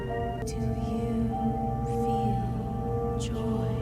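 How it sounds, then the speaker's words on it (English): Soothing, hypnotic music from the Brawl Stars video game drifts along as sustained tonal drones and low layered pulses, with a few soft rising and sweeping effects on top, steady and calm. "re-hypnotize everybody with soothing hypnotic music and sounds like this"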